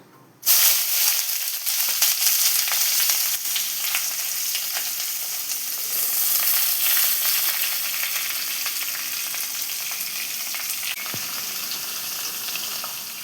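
Onions fry and are stirred in a pan for a Tamil dried-fish curry, giving a loud, steady, close sizzle. The sizzle starts abruptly and runs without a break, with no speech over it.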